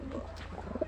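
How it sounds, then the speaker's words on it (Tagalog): Pigeons kept in a backyard coop coo softly nearby, a few low, rounded calls stacked close together over faint background hum. "Update po sa mga kalapati ko."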